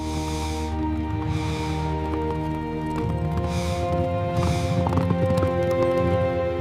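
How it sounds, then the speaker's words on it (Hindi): Horses gallop with steady, rhythmic hoofbeats over a sustained low rumble, with a faint whinny partway through. "जॉन जब सफर में चल रहा होता है तो उसे अचानक कुछ घोड़े दिखाई देते हैं।"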